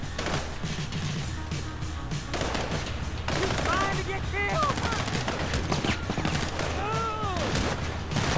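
Gunfire rattles through a GTA V Online desert survival match, with bursts of automatic shots and single cracks. Dense, close firing runs throughout, backed by game ambience and sweeping whistle-like effects.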